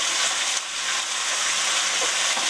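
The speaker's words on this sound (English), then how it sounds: "I know it sounds like it's frying. We're only browning it." Loud, steady sizzling hiss of garlic chicken browning, not frying, in a hot pan, close up and continuous with no talking.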